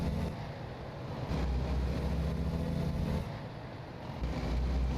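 Reworked Volvo truck engine with separated turbo sounds in American Truck Simulator, a steady low droning rumble that swells and eases in long stretches, with no talking.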